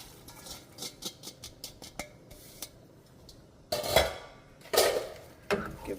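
Chopped cabbage is stirred in a pot of water with a utensil, giving a run of light clinks and scrapes followed by louder knocks against the pot.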